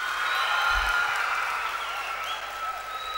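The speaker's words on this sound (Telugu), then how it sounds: "రాము కోసం ఒకసారి క్లాప్స్." An audience applauds for a guest named Ramu at a stage function honoring Naga Chaitanya, a dense, steady wash of many hands clapping, loud and sustained throughout.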